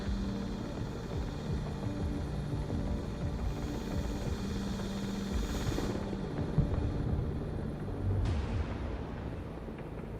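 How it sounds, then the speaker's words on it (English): Little Bird helicopter in the video game Broken Arrow, a steady rotor-and-engine drone holding loud and close throughout, with a brief rise and swell toward the end amid battle noise. "Another helicopter down."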